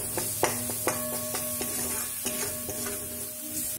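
Masala frying in oil for egg curry gives a loud, continuous sizzle and crackle close up, with a spoon knocking and scraping the pan in a steady stirring rhythm.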